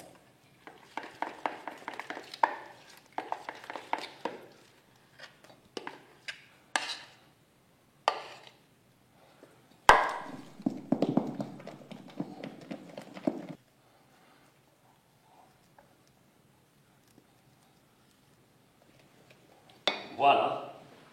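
Chocolate and gianduja being mixed into bombe batter in a bowl: a spatula or whisk scrapes and clinks against the bowl in bursts, with spoken commentary, then quiet before a final clatter.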